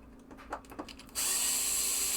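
Screws being removed from a 1973 Williams Triple Action pinball playfield: a few short clicks and ratcheting ticks, then a loud, steady whirring power screwdriver that starts abruptly and runs close up.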